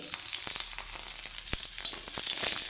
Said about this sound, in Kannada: ಇದಕ್ಕೆ ಎಣ್ಣೆ ಹಾಕಿ ಹುರ್ಕೊಳ್ಬೇಕು